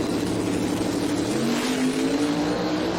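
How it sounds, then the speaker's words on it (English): An LS twin-turbo Malibu drag car launches at a drag strip and spins its tires through tire shake, producing a steady, loud, dense engine and tire roar for a few seconds, heard from a distance with no talk. "Spinning the tires and moving all over his lane from Tire Shake."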